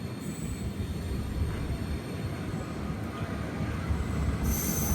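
The Amrit Bharat Express rumbles along the rails in a continuous loud roar, with a high wheel squeal running over it throughout.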